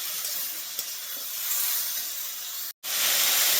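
Green unripe tomatoes sautéing in a pan, a steady close hiss and sizzle that continues evenly, broken by a brief cut to silence before the frying resumes.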